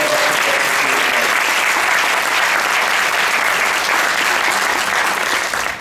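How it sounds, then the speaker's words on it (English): Loud, sustained applause from a large audience at a speech contest awards ceremony, dense clapping that holds steady throughout and begins to taper at the very end. "one round of applause for all of our contestants."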